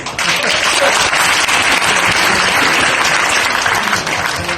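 Sustained applause from an audience at a high school alumni association ceremony, with a new alumni president's inauguration, a dense, steady wash of clapping that stays loud throughout with faint voices underneath.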